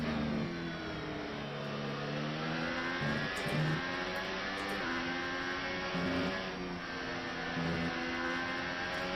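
Formula 1 race car engines in the F1 2018 video game at the Spanish circuit, a loud continuous high-revving whine with rising and falling gear shifts throughout.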